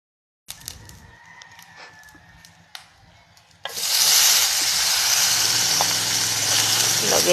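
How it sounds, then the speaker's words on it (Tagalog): Dried anchovies (dilis) drop into hot oil in a pan for sautéing, setting off a sudden loud, steady sizzle partway through, after quieter clatter and stirring, with a rooster crowing faintly in the background. "piprito natin si dilis, magigisa na rin po tayo"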